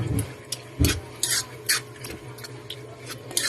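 Bagoong and meat being stirred in a pan for Bicol-style cooking, with intermittent scraping strokes and soft clinks of utensil against the pan, close and moderately quiet, no talking.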